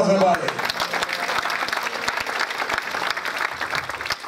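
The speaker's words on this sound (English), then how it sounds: "Give the Lord a round of applause, everybody." A church congregation at a dedication celebration applauds in a lively round of clapping, with a brief voice at the start and crowd noise beneath the claps.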